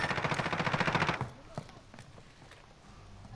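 Rapid automatic gunfire in a shooter video game, a fast close burst of about a second, then a few scattered single shots farther off, with a voice speaking over it.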